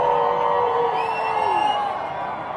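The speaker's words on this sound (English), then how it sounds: "You can hear that cheering as people are starting to enter toward Main Street right now" Energetic crowd of protest marchers cheering and whooping as they enter Main Street in downtown Dallas, a loud sustained roar of voices with rising shouts, close and continuous throughout.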